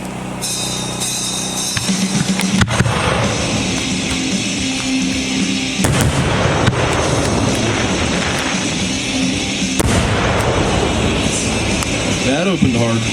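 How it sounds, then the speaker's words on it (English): Dominator 6-inch assorted aerial firework shells fire and burst at a pyrotechnics demo, with three sharp, loud booms a few seconds apart over a steady background rumble, while a person talks throughout. "We're going to shoot 3 Dominator 6-inch assorted shells."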